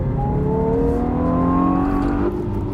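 Hyundai i20N hot hatch accelerating, a steady rising engine drone with a thin whine riding on top, loud and close, easing slightly near the end.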